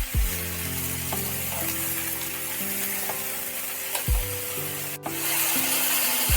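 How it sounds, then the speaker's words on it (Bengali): Chopped pointed gourd stirred with oil in a wok gives a steady, close sizzle overlaid with scraping, rubbing strokes of a spatula, while soft sustained background tones play underneath. "ভালোভাবে কিন্তু তেলের সাথে একটু নাড়াচাড়া করে দিতে হবে।"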